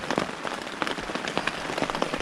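Steady rain patters on a hard surface nearby, with dense scattered drops and occasional louder splats.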